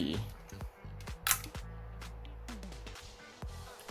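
Faint mechanical clicks of a Nikon FE film SLR camera shutter sound a few times, quiet and close, against a low hum.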